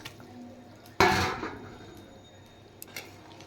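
Pieces of rohu fish dropped into a pot of boiling fish broth, a single sudden splash and clatter followed by faint bubbling and a few small pot knocks.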